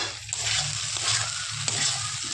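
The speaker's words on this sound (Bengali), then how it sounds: "এবার আমি এঁচোড় আর আলুটা কড়ার মধ্যে দিয়ে দিলাম, এবার নাড়তে থাকবো" Young jackfruit and potato pieces stir-fried in a wok with spice masala, giving a steady close sizzle with rhythmic stirring scrapes and occasional light taps.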